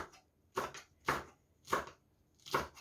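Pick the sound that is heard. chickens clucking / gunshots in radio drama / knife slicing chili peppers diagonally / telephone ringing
knife slicing chili peppers diagonally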